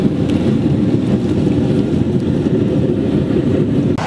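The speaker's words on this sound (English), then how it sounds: "the burner shoots the flame right up the center of the water heater" Waste oil burner flame roaring up the centre of a homemade water heater, a steady, loud, low rushing roar that continues unbroken throughout at close range.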